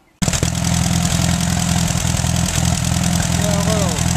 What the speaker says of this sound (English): Got a little sputter to it. Needs a new carburetor, really.